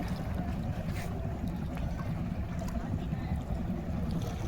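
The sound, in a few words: fishing boat on the Meghna River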